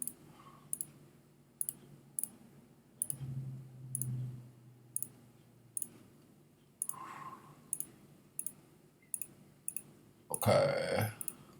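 Computer mouse clicks sound at a steady pace while tracing a shape with a Photoshop tool, sharp, close single taps repeating roughly every half second, with faint low background hum and a brief rustle near the end.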